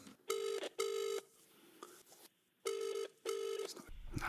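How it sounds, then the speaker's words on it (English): A telephone call ringing out over the line, with four long electronic ring tones in two paired bursts, clear and steady, followed by a brief low rumble at the end. "Let's give him a call then, shall we?"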